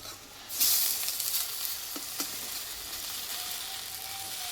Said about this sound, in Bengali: এখানে কিন্তু টিফিনটা আমার এক পিট ভাজা হয়ে গেছে এবার উল্টিয়ে নেব